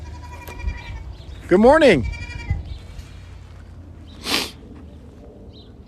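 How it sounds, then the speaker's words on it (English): Goats on a farm at sunrise let out one loud, wavering bleat up close, followed a few seconds later by a shorter, breathier call. A person gives a brief spoken greeting near the start. "Good morning, goats."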